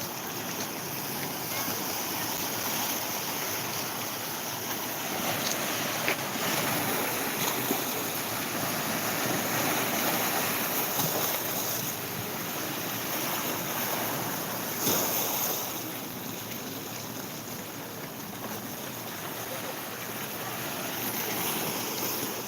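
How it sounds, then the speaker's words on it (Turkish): Night surf on the Çatalzeytin shoreline of Kastamonu, Turkey, with waves washing steadily onto the beach in a broad continuous hiss, some wind noise on the microphone, and no talking. "Evet şıkır şıkır dalga sesini dinletelim."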